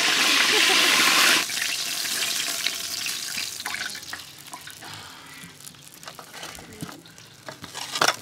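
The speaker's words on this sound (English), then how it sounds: "You keep frying until the chicken is dry?" A whole stuffed chicken deep-fries in hot oil at a street food spot in Touba, Senegal, with a loud hissing burst at first that settles into steady bubbling and sizzling, broken by occasional clanks and brief voices nearby.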